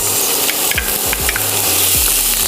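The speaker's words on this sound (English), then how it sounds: "I'm adding a little vegetable oil, and we're gonna saute some onions, some garlic, and some pimentos" Onions, garlic and pimentos sautéing in vegetable oil, a close, steady sizzle broken by a few scraping stirs of a utensil across the pan.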